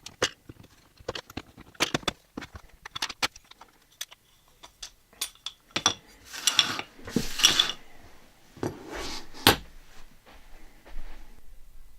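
An Allen wrench turns out the small screws holding the handle scales of a Becker BK12 knife. Close, faint metallic clicks, ticks and scrapes come in irregular bursts, with brief rattles as the parts are handled.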